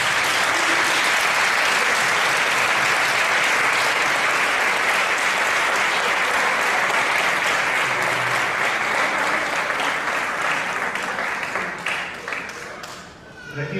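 A large audience applauds at the Aceituna de Plata 2013 award ceremony, dense sustained clapping for over ten seconds that thins and fades near the end.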